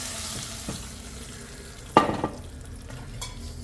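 A brief sharp sizzle bursts out as a hot oil tempering is poured into spinach curry, followed by a few softer crackles and clinks over a low kitchen background.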